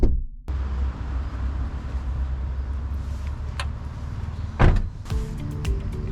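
A Daihatsu Copen's trunk lid opens in a parking lot: a faint click, then a brief, loud latch-and-lid clunk with a short follow-up rattle, over a steady low outdoor hum.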